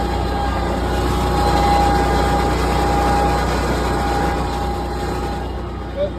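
A 2024 Kubota Z781i zero-turn mower engine runs at a steady, loud drone with a constant hum throughout, close by and unbroken.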